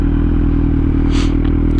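A Kawasaki Z900 motorcycle's exhaust drones steadily inside a tunnel, a loud, close, continuous low rumble echoing off the walls, with a brief scrape or clatter partway through and no voices.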